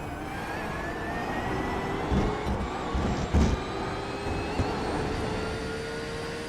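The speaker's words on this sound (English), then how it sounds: "As you can hear that Porsche whining and those tires screeching through the turns." A Porsche GT3 race car engine whines in rising and falling sweeps as cars work through the turns at Hockenheimring, with brief rough bursts of tyre noise, heard at moderate distance.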